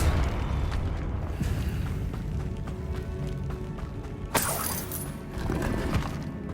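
A sudden bright blast of the Confringo spell in Hogwarts Legacy cracks through a dense, rumbling game soundscape, followed by shattering debris and a brief sharp impact.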